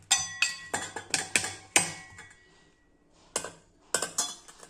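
A spoon mixes masala kairi in a pot, giving a run of sharp metallic clinks and scrapes in quick irregular strokes, a short pause, then a few more taps, close and alone.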